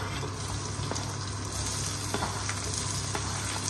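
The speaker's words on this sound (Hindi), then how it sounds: "ये डाल दिया हमने जीरा, चॉप अनियंस." Cumin, chopped onions, curry leaves and ginger sizzle loudly in hot oil with a dense, continuous crackle, close and steady throughout.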